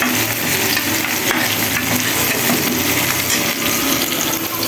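Garlic frying in a pan for jute greens, with a steady, close sizzle and crackle that runs unbroken, plus occasional stirring scrapes and clinks of a utensil against the pan.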